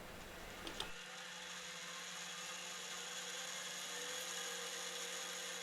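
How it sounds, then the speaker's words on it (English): A knurling tool held in a lathe tailstock chuck pressing into the edge of a metal reservoir lid, a steady machine whir with a faint rolling grind that runs continuously after a brief clatter at the start. "using my knurling tool mounted in the tailstock chuck, I knurled the edge of what is going to be the reservoir lid"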